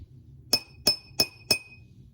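A glass jar holding the least water, struck four times at an even pace, each strike a bright, ringing clink that rings briefly before the next, close and clear over a quiet background.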